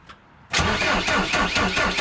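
A Deutz BF4M2012 four-cylinder diesel in a Volvo BL70 backhoe loader cranks after a brief quiet start, the starter churning steadily with a rapid rhythmic chug as the engine turns over without catching, loud and close.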